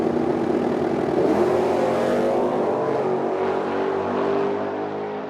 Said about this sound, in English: Big wheels up launch coming.